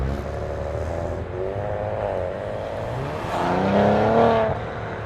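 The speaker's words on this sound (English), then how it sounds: "Now the exhaust in normal mode, as you can hear, below 3000 RPM, it's close." A 2019 Maserati Ghibli S GrandSport's exhaust in normal mode drones steadily while driving, with a smooth engine note that climbs in pitch and swells louder near the end, heard from inside.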